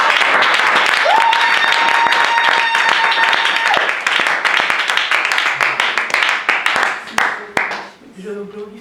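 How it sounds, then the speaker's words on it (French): A church congregation at a worship service bursts into loud, sustained applause with dense, continuous clapping from many hands. A voice rises briefly over it, and the clapping thins out toward the end. "Est-ce que vous pouvez acclamer pour vous?"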